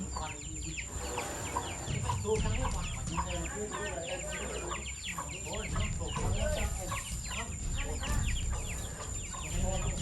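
Chickens cluck and chirp on a rural farm, a steady busy stream of close fowl calls throughout, with faint background noise.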